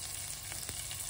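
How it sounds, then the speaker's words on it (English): Onion, dry chili and curry leaves sizzle as they temper in hot oil for a cassava curry, a steady, close, bright crackling hiss with no talk over it. "We are tempering the onion and dry chili and the curry leaf"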